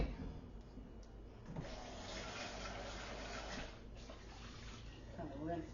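Water running and splashing as a container is rinsed out while making homemade coffee creamer, a steady close wash of liquid over muffled handling.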